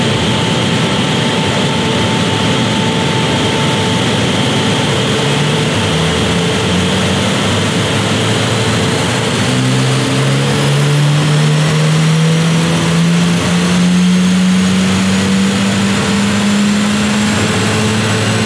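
A Hyundai i20 N fitted with a Race Chip tuning box accelerates hard in a race, its engine note climbing steadily in pitch and staying loud and continuous throughout.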